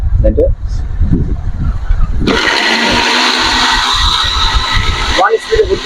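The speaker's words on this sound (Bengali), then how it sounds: "এই যে আমি লক করে দিলাম, এখন কিন্তু আপনার মোটরটা চলবে।" Miyako food processor motor whirring loudly at speed, starting abruptly after some talk and running as a steady high whine for about three seconds before cutting off as the voice resumes.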